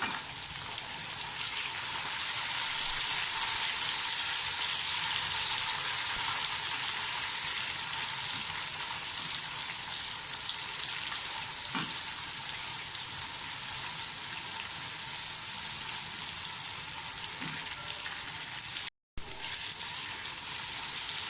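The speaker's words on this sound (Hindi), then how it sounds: "लहसुन अदरक का मसाला सारा अच्छी तरह से फ्राई हो जाए" Steady frying sizzle of garlic-ginger masala with tomatoes and green chillies fills the whole stretch, a dense crackling hiss from a hot pan with a few small pops and a brief dropout near the end.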